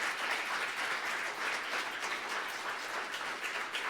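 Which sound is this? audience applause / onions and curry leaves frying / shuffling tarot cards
audience applause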